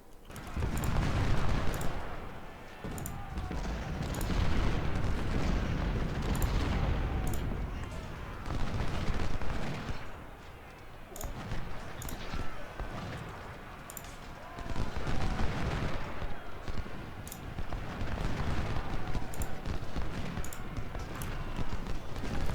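Musket volleys and cannon fire in Ultimate General: Civil War, during the Battle of Chickamauga, as continuous rolling gunfire with crackling bursts and booming surges, dense and loud throughout.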